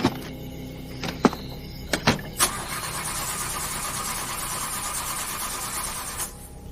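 A repaired engine cranks with a few sharp clicks, then catches and settles into a steady, fairly loud running drone that carries on before cutting off near the end, with no voices over it.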